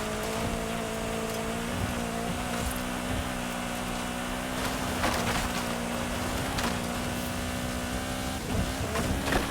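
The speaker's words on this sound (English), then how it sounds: "There's F1 Power Slide going flying by me in the RJ Anderson Pro 2 truck" An RJ Anderson Pro 2 racing truck roars past in an off-road racing game, a steady engine drone with shifting pitch and scattered knocks and rattles throughout.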